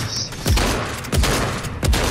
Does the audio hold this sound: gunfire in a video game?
yes